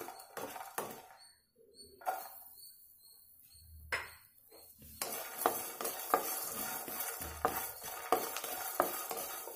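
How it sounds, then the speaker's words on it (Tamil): Cinnamon and other whole spices with coconut roast in a pan for drumstick masala curry: irregular spatula scrapes, clinks and stirring knocks against metal, a faint sizzle underneath, and short quiet gaps between bursts of stirring. "சேர்த்துட்டு அதையும் கொஞ்சம் நல்லா வறுத்தெடுத்துக்கணும்"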